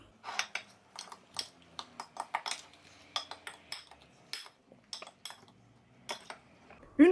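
Cutlery stirs a spice and condiment mixture, producing irregular close clinks and scrapes against the dish, fairly quiet and without any speech.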